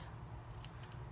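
Scissors trimming gold bling craft material, a few soft quick snips over a low steady hum, faint and close, with no talk.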